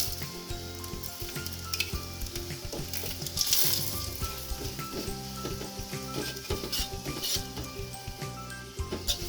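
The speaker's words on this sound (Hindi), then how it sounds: "दबा दबा के हमें सेकना है इसे।" Paratha roasting in ghee on a hot griddle gives a steady close sizzle throughout, with a louder crackling burst near the middle as it is pressed down; no talking.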